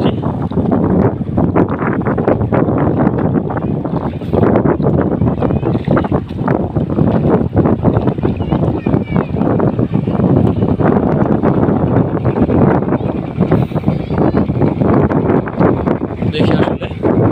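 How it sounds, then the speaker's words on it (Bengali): Strong, steady wind buffets the microphone on the Jamuna River during rain while fishing for pangas, a continuous loud rumbling gust with someone talking over it. "একটানা বাতাস, একটানা বৃষ্টি।"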